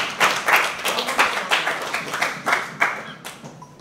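An audience claps at a combat sports weigh-in ceremony, a few people clapping in a loose, uneven rhythm, fairly close and clear with no other sound over it.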